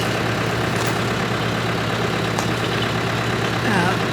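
Tractor fitted with a grapple idling outdoors during storm cleanup of a blown-over tree, a steady low engine drone running throughout with no clear changes in pitch.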